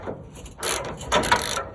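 A ratchet clicks in quick bursts while snugging down a bolt on the heavy bed of an old truck nicknamed Old Blue, with several separate runs of close, sharp pawl clicking and no voices.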